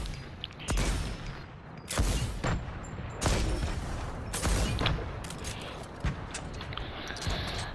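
Loud video game gunfire erupts in repeated bursts and single heavy shots, with mechanical clanks and booms between volleys, dense and close throughout.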